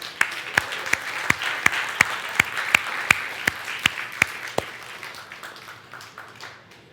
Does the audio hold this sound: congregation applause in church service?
yes